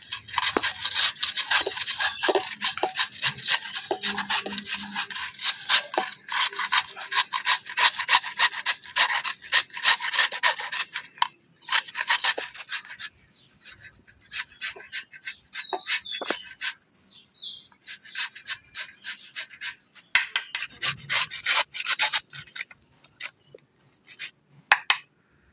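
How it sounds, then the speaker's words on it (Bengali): Two raw potatoes rubbed on a hand grater, giving a close, rhythmic scraping of quick strokes with brief pauses between bursts, alone without talk. "তো প্রথমে আলু দুটো আমি একটু গ্রেটার দিয়ে ঘষে নেবো।"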